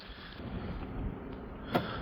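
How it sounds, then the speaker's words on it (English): Steady rushing 40-mile-an-hour wind gusts buffet the microphone with a low roar at a building site, broken near the end by one brief sharp gust-like burst. "sure glad there's no panels in these 40-mile-an-hour wind gusts"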